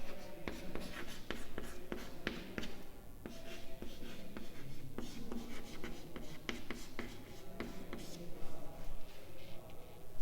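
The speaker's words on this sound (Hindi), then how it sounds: "जो मेरी फर्स्ट इक्वेशन आई है इसको मैं साइड में यहाँ लिख के रख लेती हूँ" Pen scratching steadily across paper as an equation is written out by hand, a continuous close scraping texture broken by short strokes and taps, with no talking.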